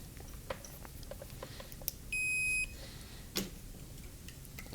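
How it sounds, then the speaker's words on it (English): A multimeter in diode mode gives a single short, clear beep partway through, with light clicks and handling noise around it during testing of an iPhone XS board. "The multimeter is in diode mode."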